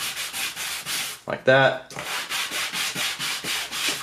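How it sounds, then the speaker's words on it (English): Sandpaper rubbed along the edge of a 3D-printed blade part in quick, even back-and-forth strokes, close and scratchy, briefly interrupted by a short spoken phrase. "So I want to go ahead and sand this as well. Just going to give it a few on the edge."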